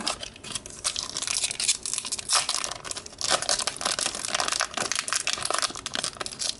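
A Japanese Pokemon card booster pack wrapper from an Emerald Break box is torn open and crinkled close up, with busy, uneven crackling and ripping foil noises that run steadily with brief dips.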